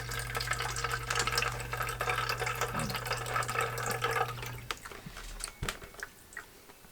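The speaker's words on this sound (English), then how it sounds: "so you know how long I poured that water for?" Water is poured steadily in a continuous splashing stream for about four seconds before it trails off into a few drips and small knocks, heard close up with no talking.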